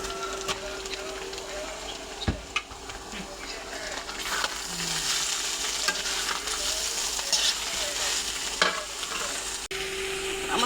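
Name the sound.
radish greens frying and being stirred in a pan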